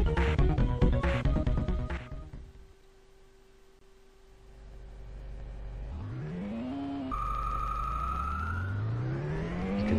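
Ferrari engine in the Amiga game Test Drive, a synthesized tone starting low and climbing steadily in pitch as the car accelerates through a gear change, following a brief noisy burst at the start.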